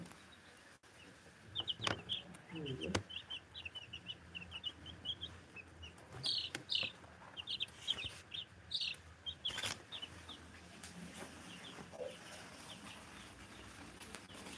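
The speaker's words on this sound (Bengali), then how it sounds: "আর এই সাইজে আছে আমার পোলট্রি ব্রয়লার মুরগির বাচ্চা ব্রডিং করা আপনাদের দেখাই" Broiler chicks in a poultry brooder peep and cheep in quick, high, scattered bursts, with several chicks calling close by against a quiet room.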